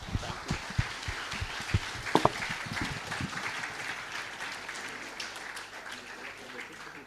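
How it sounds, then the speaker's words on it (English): Round of applause from an audience at a startup event hall, a steady crowd clapping with a few louder individual claps early on, gradually thinning and softening toward the end. "let's give him a huge round of applause"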